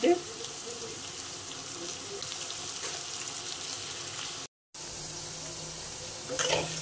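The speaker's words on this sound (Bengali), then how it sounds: "যে কড়াই একটু তেল দিয়ে দিলাম, আলুগুলো দিচ্ছি, ভেজে নিচ্ছি" Potatoes frying in oil in a wok with turmeric and salt, a steady broadband sizzle running throughout with one brief dropout, close and fairly loud.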